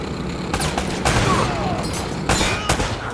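Gunfire in the video game Uncharted: Drake's Fortune: repeated sharp shots and bursts crack over a busy combat background, with several loud reports clustered near the start, middle and end.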